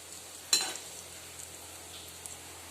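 Soybean pakora frying in hot oil as it is turned over, a sharp stir and splash followed by a soft, steady sizzle that fades back to a low background hiss.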